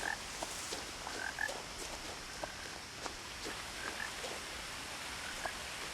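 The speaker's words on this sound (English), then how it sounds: "All you hear is a frog." Scattered, fairly faint frog croaks from What Remains of Edith Finch repeat irregularly over a hissy outdoor ambience with soft footstep-like taps.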